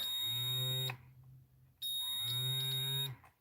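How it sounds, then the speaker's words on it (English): A homemade soldering aid device gives two loud, steady electronic beeps, each lasting about a second, separated by a short pause, heard up close with no talking. "when I touch the 2 wires sticking out from the end of it, beep and vibrate"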